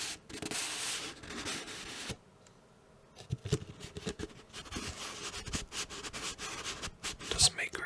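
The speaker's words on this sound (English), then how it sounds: "Doesn't make great sounds, this lid." Cardboard box lid rubbed and handled during an unboxing, giving soft scratchy scraping and rustling in bursts with a short quiet pause, close up and fairly faint, no talking.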